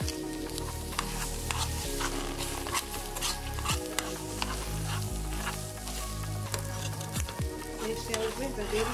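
Eggs sizzling in a pan while being stirred, a steady close frying hiss broken by repeated scraping strokes and light knocks of the utensil against the pan; a voice speaks quietly in the background.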